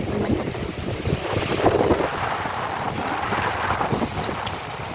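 Strong wind roars and buffets steadily for the whole stretch, loud gusty rushing with no voices.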